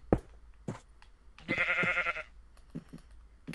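Sheep in Minecraft bleat in short bursts, a few quick clipped cries followed by one longer wavering bleat, then faint scattered taps, fairly close and with no talking.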